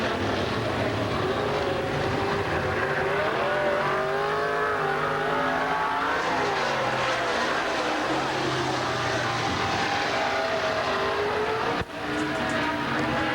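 Race cars roar around a short track at a 1998 Hav A Tampa series event, a continuous loud engine drone with rising and falling revs as cars pass, with crowd and PA noise underneath.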